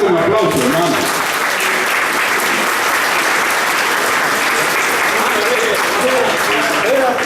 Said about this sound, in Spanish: Vamos a recibir a Antonio con aplauso